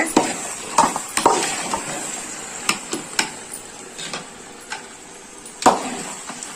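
Chicken biryani with two kilos of chicken is stirred up from the bottom of a pot, producing sparse, close metallic scrapes and clinks of a spoon against the pot at an irregular pace, with no talking.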